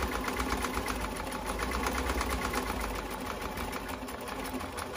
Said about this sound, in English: And I'm gonna backstitch on the ends.